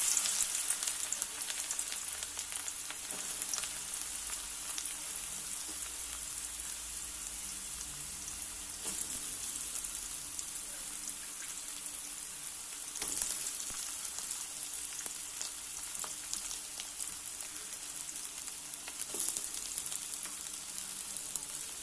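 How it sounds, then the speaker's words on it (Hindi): Vegetables frying in hot refined oil over a high flame for street-style Chinese noodles, a steady close, dense sizzle with crackling spits that runs unbroken throughout, with no talking. "तो चलिए अब हम लोग इसमें वेजीज ऐड कर देते हैं।"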